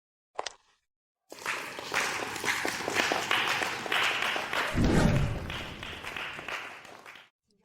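Applause greeting a female CEO arriving on stage, a dense wash of clapping that starts abruptly after a brief tap, holds steady and fairly loud for several seconds with a heavier thud midway, then stops.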